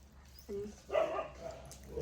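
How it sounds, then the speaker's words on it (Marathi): A few faint dog barks and yips sound at a distance, quiet and brief against low background noise. "कुत्र का वाजले?"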